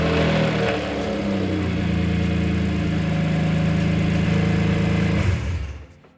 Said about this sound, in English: we do have the S54 in here. It is running.